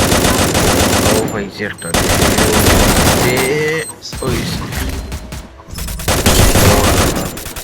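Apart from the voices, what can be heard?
gunfire in the video game Free Fire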